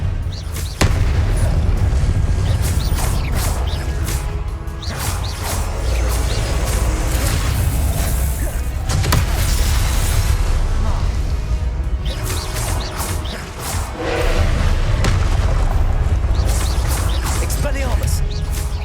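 A Confringo blasting spell explosion effect in a Spider-Man wizard action skit, loud booming blasts and rumbling crashes filling the whole clip almost without pause, with shouted voices mixed into the din.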